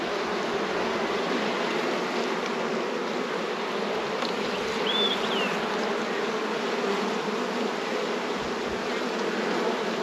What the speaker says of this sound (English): It's got bees in a little bit less than half of the hive now